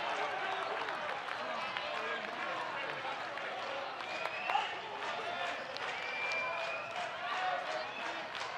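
A college baseball crowd at an Oklahoma State versus Florida game cheers and claps steadily after a leadoff walk, a broad, sustained roar with scattered whistles and voices rising and falling throughout.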